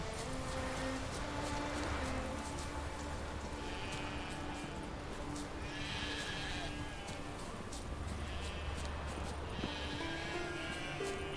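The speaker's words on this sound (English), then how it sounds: "Sheep, sheep." In The Witcher 3 video game, sheep bleat several times in short calls over a constant ambient game soundscape, with faint voice underneath.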